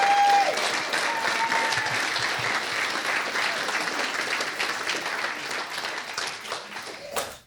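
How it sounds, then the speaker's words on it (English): Wedding-reception guests at a country club burst into a big round of applause, a dense sustained wash of many hands clapping that fades out at the end, with a few voices and cheers mixed in. "please can we give him a big round of applause for that again"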